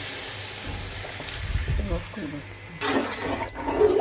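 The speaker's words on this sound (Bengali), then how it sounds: "এখন গরম পানি দিয়ে দিব" Hot water is poured into a pot of 2 kg of fried pilaf rice for chicken biryani, a brief rushing splash and sizzle near the end, with speech over and around it.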